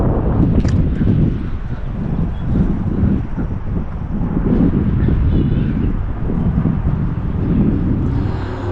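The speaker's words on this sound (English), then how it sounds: "you probably won't be able to hear me because it is quite windy" Strong wind buffets the microphone continuously, a loud rumbling roar that never lets up.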